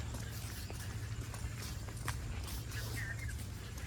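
Footsteps crunch along an unpaved village road near Gazipur on a rainy day, soft irregular steps close by over a steady low rumble and outdoor hiss, with no talking.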